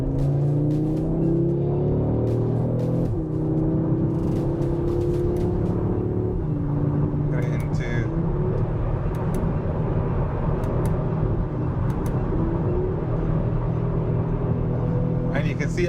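An Audi RS3 in dynamic mode pulls onto the high-speed bowl at Millbrook, its engine droning steadily and rising in pitch under continuous cabin-level road rumble, with a person talking over it throughout.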